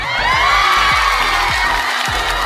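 A crowd cheers and whoops in an ovation sound effect. The cheering is loud and continuous over a steady series of deep rhythmic thumps.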